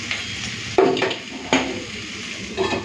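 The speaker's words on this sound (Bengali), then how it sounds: "এরপরে ঢাকা দিই।" A metal lid set down on a cooking pot while a Bengali dish of banana stem with prawns cooks on a gas stove, giving a couple of sharp clanks and a later softer clink over a faint kitchen background.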